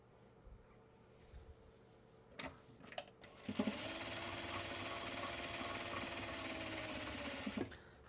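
Sewing machine running a long basting stitch on drawstrings for Japanese-fabric bags, starting with a few knocks and then humming steadily and close for several seconds before stopping.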